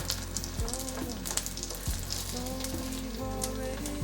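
Nori and yam pieces fry in hot oil for a vegan dish, giving a steady, close crackling sizzle with scattered pops and a few brief scraping stirs, and no talking.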